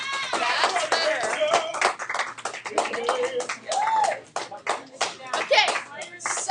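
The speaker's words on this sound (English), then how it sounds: "Everybody give Lorenzo a round of applause." A high school algebra classroom breaks into a round of applause, uneven clapping mixed with excited students' voices and chatter all the way through.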